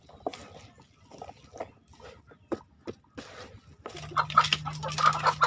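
Roosters and hens cluck in a farmyard at feeding time, scattered short calls at first, then a louder, denser burst of many birds clucking together with a steady low hum beneath.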